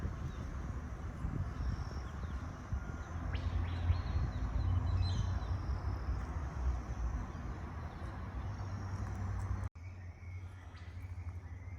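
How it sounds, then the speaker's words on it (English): Distant birds calling around wetlands along an old rail line near Toronto-Fassifern, faint chirps over a steady outdoor wash of wind and ambient noise, with no one talking. "And we've got these other birds here in the distance."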